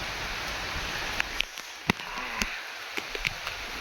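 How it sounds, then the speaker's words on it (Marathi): A steady hiss of heavy monsoon rain in rural Konkan fills the background, broken by scattered sharper taps and drips. "जोरात पावस येलो"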